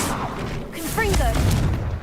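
Confringo blasting spell cast in Hogwarts Legacy, a single broad burst with a booming low rumble about a second in, heard under a voice that speaks briefly before it.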